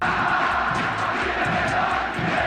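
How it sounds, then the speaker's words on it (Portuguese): Flamengo football fans in a stadium crowd sing a chant during a match, a loud, dense wall of massed voices with a rhythmic pulse. "a torcida do Flamengo cantou essa música aí durante o jogo"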